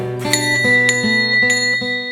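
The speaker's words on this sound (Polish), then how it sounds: "Piękny dzwon." A metal ship's bell from the cargo ship Władysławowo rings repeatedly, about six bright struck tones in quick succession, each leaving a sustained shimmering ring.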